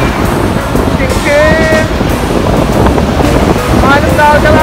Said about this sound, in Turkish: Dalgalar hem çok güzel hem de tehlikeli.